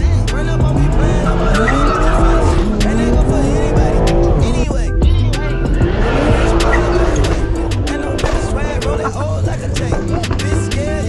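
A tuned Stage 2 2020 BMW M340i with B58 engine, intake, downpipe and MAD exhaust, driven hard with loud sustained tire squeal and screeching over a roaring, rising and falling engine for the whole stretch.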